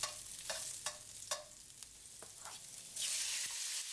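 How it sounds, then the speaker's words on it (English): Steak and ginger sizzle in a hot pan while being stir fried, a steady close hiss punctuated by repeated sharp clinks and scrapes of the spatula, ending with a louder burst of sizzling. "The sizzling sound from the meat is always a satisfying sound to hear during stir frying"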